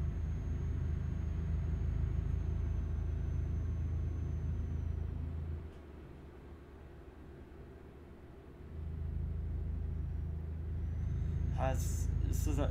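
Truck and car traffic in Euro Truck Simulator 2 gives a steady low engine rumble and road drone that dips briefly midway, then returns, with someone talking over it.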